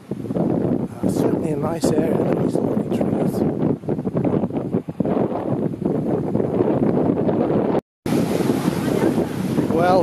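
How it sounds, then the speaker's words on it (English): A strong sea breeze buffets the microphone near Changi Beach, a constant roar of wind gusts with surf close by. Someone talks over it, and the sound cuts out for a moment. "I'm getting close to the sea and there's quite a strong breeze."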